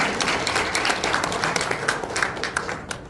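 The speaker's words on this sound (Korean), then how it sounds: "박수 부탁드립니다." An audience applauds steadily at a public citizens' debate forum, a dense crowd of clapping hands that carries on evenly throughout.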